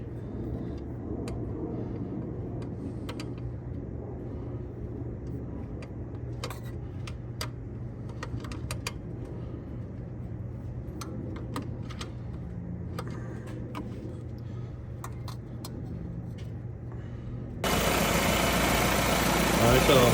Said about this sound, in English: The engine is running, no more leaks.